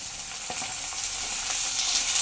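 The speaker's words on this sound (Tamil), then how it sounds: "நல்லா சேர்த்து வதக்கி விட போகிறோங்க." Onions and tomato sauté in a pan for a chicken gravy, giving a steady close sizzle and hiss with a few soft stirring scrapes and no talking.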